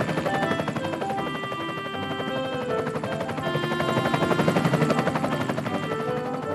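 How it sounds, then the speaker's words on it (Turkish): A cartoon helicopter flies past with a steady, loud rotor chop and a bright musical score playing throughout, the chopping beat holding even and close for the whole stretch. "Aa, bu ses de ne? Bir helikopter."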